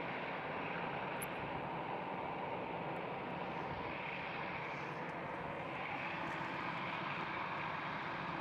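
Air France airliner engines spool up at Schiphol Airport in Amsterdam, a steady, broad roar heard from a distance that holds evenly throughout with no voices.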